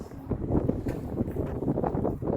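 Wind buffets a microphone in low, thumping gusts, a rough continuous rumble with uneven bursts throughout.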